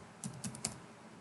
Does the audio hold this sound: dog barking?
no